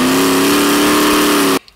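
A 1000HP single-turbo Camaro with a stock-cubic-inch LS V8 and three-speed automatic gives a loud, sustained steady rev up close, holding a strong droning tone before cutting off abruptly.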